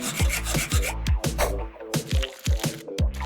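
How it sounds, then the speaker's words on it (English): Nails being filed in a pet grooming session, steady rhythmic rasping strokes repeating about twice a second, close and loud, with no talking. "Start with a trim and file it down."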